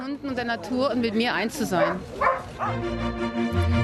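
Sled dogs bark and yip in excited, uneven bursts close by, with a whimpering edge and a low steady hum beneath.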